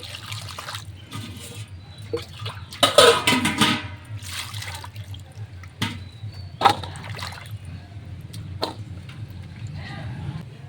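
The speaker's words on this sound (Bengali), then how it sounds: "এবার আলুটা আমি ধুয়ে নিচ্ছি" Cut potato pieces being washed by hand in water, with sloshing and splashing in uneven bursts and a louder clattering swirl near the start, over a constant low background hum.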